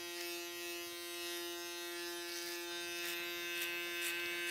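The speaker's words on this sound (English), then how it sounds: "I'm gonna take my foil shaver right on top of this cut, following the hair in the shape I want it to go." An electric foil shaver buzzes steadily while trimming hair on a tight fade haircut, a close, even motor hum with a bright rasp over it and no talk.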